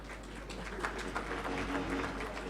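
A gala audience applauds comedians Sidiki and Souké in a steady, dense wash of clapping heard from a distance, with a low hum underneath and no clear voices.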